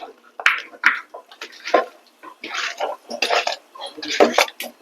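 Pieces of country chicken dropped and clattering into a metal pressure cooker, a series of irregular wet thuds and clanks close by, with a person talking over them.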